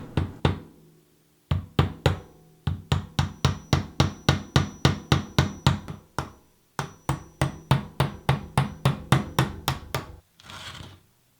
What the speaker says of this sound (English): Use the hammer to clock it clockwise.